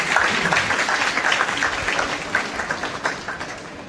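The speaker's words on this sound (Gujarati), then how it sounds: "એકવાર બધા જોરદાર તાળીઓ પાડી દો" Dense, steady applause from a seated audience at a women's club installation ceremony fills the hall, loud and close, holding evenly throughout with only slight swells.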